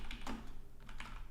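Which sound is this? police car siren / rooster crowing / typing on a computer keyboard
typing on a computer keyboard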